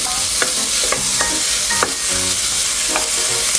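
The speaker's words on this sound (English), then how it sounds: "throw in your bacon. Stir it around a bit" Bacon sizzles loudly in a heated pot for corn soup while a utensil stirs it, producing a constant close crackle punctuated by several distinct scrapes and knocks, with no voices.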